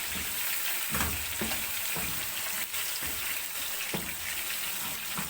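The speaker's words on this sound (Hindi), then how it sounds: "इधर फिश हो रही है, फ्राई हो रही है" Fish frying in masala for a fish curry, a close, loud, continuous hiss and crackle of hot oil with a few soft knocks mixed in, steady from start to end and no one speaking.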